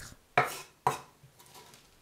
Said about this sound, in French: J'égoutte les vermicelles. Je les coupe en tronçons de 3 cm.